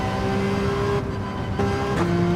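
Porsche race car engine in Gran Turismo 7 during a daily race, a steady high engine drone that shifts pitch as gears change, close and continuous with no talk.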